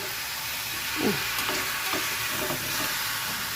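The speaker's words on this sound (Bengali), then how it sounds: "মাংসটা আমি কষাবো ভালো করে" Chicken sautés in a hot pan for chicken kosha, with a steady loud sizzle and a few scraping stirs of a spatula over it.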